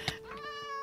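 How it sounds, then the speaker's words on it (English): A Minecraft cat gives a single short meow, clear and close, with a faint tonal game ambience around it. "Where did these cats come from? Why do we have cats?"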